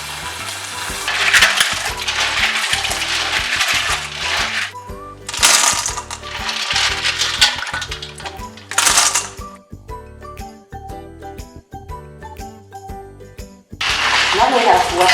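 River snails rattle and clack against each other as they are scrubbed and washed in water, a loud, close, busy clattering that comes in several bursts with brief pauses between.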